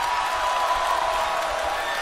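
Audience applause welcomes the first contestant on the Sing! China 2020 singing competition stage, a dense, sustained wash of clapping that stays level from start to finish.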